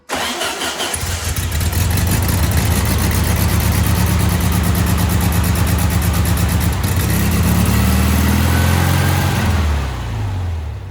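A 1966 VW Bus engine fitted with an MSD ignition box cranks, catches and runs at a loud, close, steady idle with a rhythmic throb, then the revs shift lower near the end.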